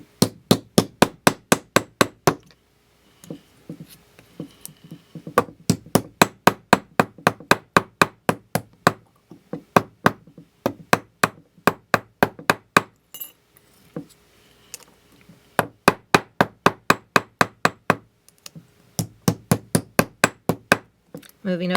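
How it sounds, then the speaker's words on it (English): A metal bolo tip being hammered over a conical form into a cone shape: bright, ringing metallic strikes close by in rapid rhythmic bursts of about ten blows, separated by short pauses, with occasional speech between them. "And then using this end of the hammer, I'm going to start hammering the length of it."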